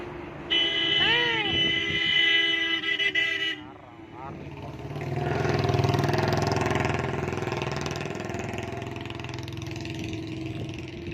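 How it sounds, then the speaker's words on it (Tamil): A loud, sustained train horn sounds for several seconds, its pitch sliding as the train nears, then a heavy rumbling roar of the passing train continues with voices faintly underneath. "ஹார்ன் அடிச்சிங்கன்னே வரான்."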